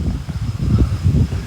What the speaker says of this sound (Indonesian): Ini angin tiba-tiba langsung gede